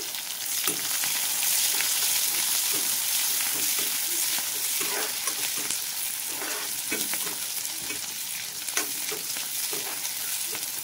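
Chopped onions sizzle in hot oil for a chicken dish while being stirred, a dense continuous frying hiss with repeated scraping strokes of the spoon throughout.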